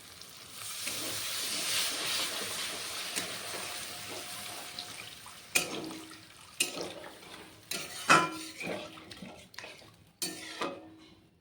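Katla fish kalia gravy boils in a pan in a Bengali kitchen, with a steady bubbling hiss. Sharper clanks of a utensil against the pan follow, repeated at irregular intervals, with no talking.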